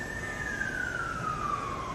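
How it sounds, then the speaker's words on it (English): A single emergency-vehicle siren wails steadily in the distance downtown, its pitch slowly falling, over constant low background noise. "Oh my gosh, these sirens."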